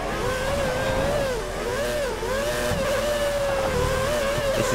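A Formula 1 car from the 2013 racing video game, its engine whining steadily at high revs with pitch swells as it shifts and corners, tyres skidding, loud and continuous with no talk.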